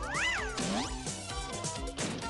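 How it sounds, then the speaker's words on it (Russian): A cartoon cat meows in the Heathcliff animated series, with long, swooping, loud yowls over busy music and sound effects. "Откуда здесь взялся этот кот?"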